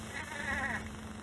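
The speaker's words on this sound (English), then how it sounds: "Goat, I want my goat." A goat gives a single short, wavering bleat in a 1930 film scene, heard close and clear against a faint background hum.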